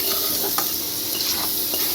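Sliced onions fry in a pan for a Bengali mutton curry, giving a continuous close sizzle with intermittent spatula scrapes and light clinks of stirring, alone without talk.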